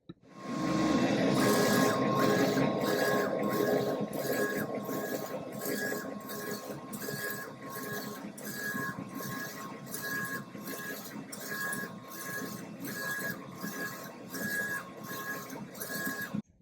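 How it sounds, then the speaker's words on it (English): A ProColored dual-head DTF printer runs a print job, its carriage sweeping back and forth in a steady repeating rhythm of mechanical whirs and clicks with a constant motor hum underneath, close and loud with no talk. "the printer that we're using is a ProColored dual head printer"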